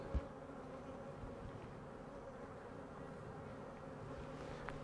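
Honeybees around a hive that may have swarmed, likely queenless, make a steady low droning hum that lasts throughout, with no voices over it.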